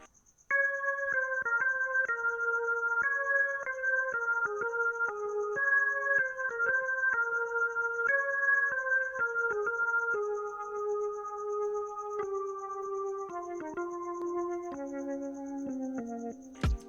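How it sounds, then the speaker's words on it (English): Organ from a B4 plugin on the drop-out preset plays a steady sequence of sustained chords and descending notes, clean and alone, with a faint high steady tone running throughout. "So from there I have this organ sound here"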